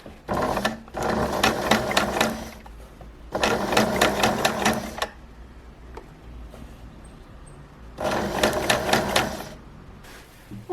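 A sewing machine runs a zigzag stitch back and forth over a cord laid on fabric, in three steady, rapid bursts of whirring stitching, each a second or two long, with short pauses between them.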